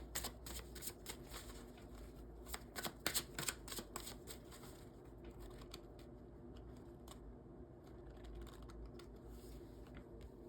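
Tarot cards are shuffled, handled and flipped over close by, a quiet run of crisp flicks and riffling clicks, busiest early on and then thinning into softer sliding taps.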